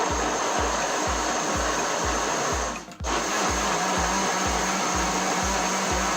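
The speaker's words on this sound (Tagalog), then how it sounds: "i-blend na natin" An electric blender whirs loudly and steadily through a strawberry and cucumber smoothie, with a rapid low pulsing throb and a brief dip in the motor's pitch partway through, close by and alone.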